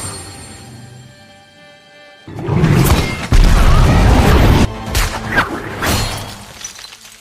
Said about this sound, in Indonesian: ia sampai tak sengaja mengaktifkan salah satu granat.